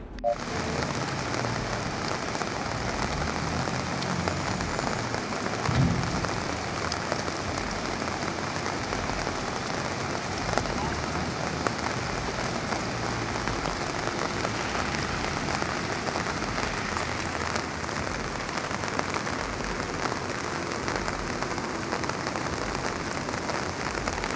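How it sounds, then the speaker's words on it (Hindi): Heavy rain pouring steadily in Uttarakhand, a dense, continuous hiss of drops drumming on surfaces at constant loudness throughout, with no voices. "उत्तराखंड में भारी बारिश का कहर कह लीजिए आप।"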